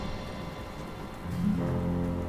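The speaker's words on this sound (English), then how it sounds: "Oh, and it's gonna rain." Steady rain falls in the video game Shelter 2, a soft continuous patter mixed with low ambient game tones that swell slightly toward the end.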